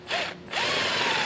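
Power drill driving a self-tapping screw into the metal body of a 2024 Jeep Grand Cherokee: a loud, close, steady whine that dips briefly, then resumes and holds.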